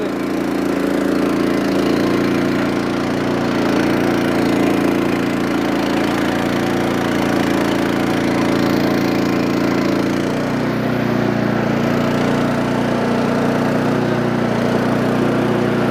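A steady, loud engine drones on without pause, a low rumbling hum from a Swaraj tractor running close by.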